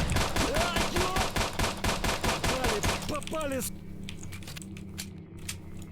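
Rapid automatic gunfire from the video game STALKER: Shadow of Chernobyl, a dense burst of loud shots lasting about three seconds, with a voice talking over it before the firing cuts off into quieter background game noise.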